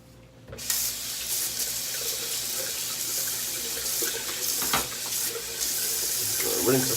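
Water runs from a tap into a sink to rinse shaving gear, a steady close hissing stream starting abruptly after a quiet moment and carrying on with small splashes as items pass under it.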